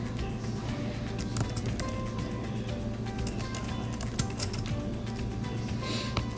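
Steady typing on a computer keyboard, a continuous run of close, light key clicks over a constant low background hum, with no talking.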